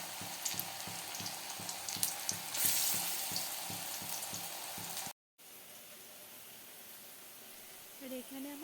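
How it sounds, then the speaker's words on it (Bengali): Steady crackling sizzle of pakoras frying in hot oil, close and continuous, cutting off abruptly to a quieter hiss with faint clinks. "এখানে আমি পকোড়াগুলো ভাজছিলাম"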